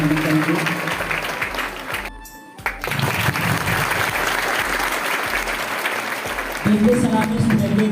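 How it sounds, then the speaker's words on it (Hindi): Loud, sustained applause from a crowd of schoolchildren greets the chief guest at a school Independence Day or Republic Day ceremony, filling most of the clip with steady clapping broken by a brief gap. "सभी बच्चे पहले अपने स्थान पर जोरदार तालियों के साथ अपने मुख्य अतिथि विशिष्ट का हार्दिक स्वागत करेंगे।"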